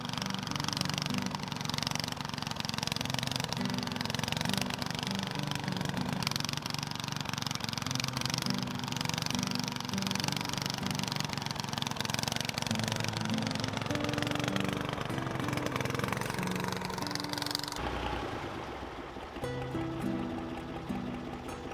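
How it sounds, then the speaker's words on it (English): Farm tractor pulling a hay turner across a hay field on an abandoned Norwegian farm, a steady continuous engine drone with mechanical rattle, fairly close and constant, shifting to a lower, rougher tone near the end. "We had bought a hay turner for the tractor."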